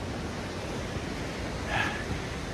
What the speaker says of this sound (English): If I'm not mistaken, those are waterfalls right there.